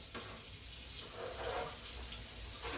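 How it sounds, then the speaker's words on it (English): Liquid marinade is poured off a cheap chuck steak in a home kitchen, a soft, steady splashing trickle like running tap water that continues throughout at fairly low volume. "We're gonna pour off this marinade."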